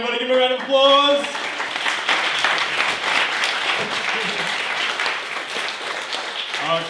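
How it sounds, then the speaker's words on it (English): Studio audience at a taped improv comedy show breaks into loud, sustained applause that fills the room, with a voice speaking briefly over the start. "Give me a round of applause."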